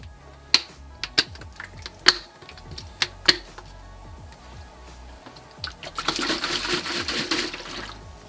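Several sharp plastic clicks snap in quick succession as food storage container lid latches close, then water sloshes and pours briefly, close and fairly quiet.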